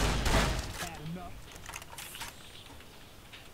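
Gunfire in the video game Fallout New Vegas: a loud burst of rapid shots opens, then thins into scattered, quieter cracks and clatter.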